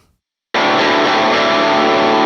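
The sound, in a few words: guitar pedal distortion mode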